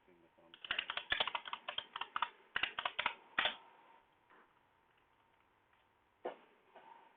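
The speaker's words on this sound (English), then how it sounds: "Typing with thumb, sorry." Quick bursts of thumb-typing on a keyboard, clicky taps clustered in the first few seconds, then a pause and a couple of isolated taps near the end, close and fairly quiet.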